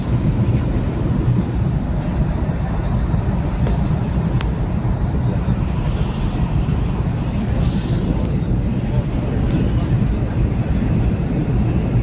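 Steady loud cabin drone inside a small aircraft with tiny wings in flight over jungle in Bolivia, a continuous low engine roar with airflow hiss throughout.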